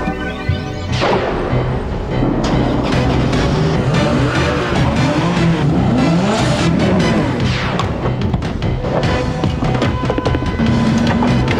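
A smooth-running 230 diesel car engine idling and revving, a steady loud rumble with rising and falling pitch sweeps and a few sharp knocks, heard alone without speech.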